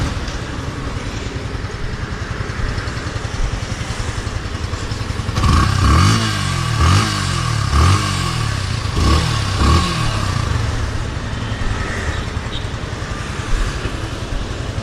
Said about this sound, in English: Now we'll see the exhaust note.